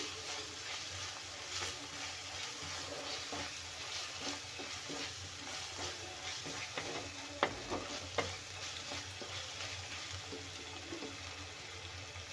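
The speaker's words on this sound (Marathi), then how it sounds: "आणि आलं आणि लसूण पण भाजून घ्यायचं तेलामध्ये" Ginger and garlic fry in oil in a clay pot, a quiet, steady sizzle with occasional soft stirring scrapes and a couple of sharp clicks, no talking.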